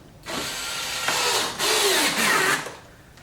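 A power tool drives and tightens a Torx screw while fitting a front splitter on a C8 Corvette, a close, loud continuous whirring burst with short pauses and pitch changes over about three seconds, no speech.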